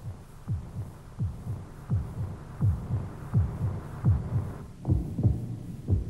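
A living human heart beats in a steady rhythm, each beat a close, low double thump, repeating about every 0.8 seconds over a soft hum with no talking.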